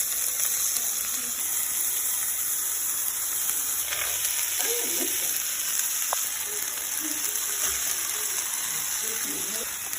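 Eggs frying in a pan for fried rice, a steady bright sizzle throughout with occasional scraping and stirring sounds, close and moderately loud.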